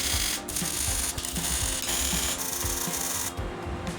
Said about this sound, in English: I'm gonna clean up the inside just a little bit with a file.